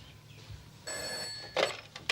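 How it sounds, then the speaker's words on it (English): Telephone bell ringing in a short, bright burst, followed by a second ring starting, heard in a quiet room. "Marty, answer the phone."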